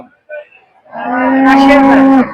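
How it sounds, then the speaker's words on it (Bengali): A cow at a livestock market lets out a long, loud, low moo after a couple of brief softer grunts. "আমার সামনে একটি গরু রয়েছে"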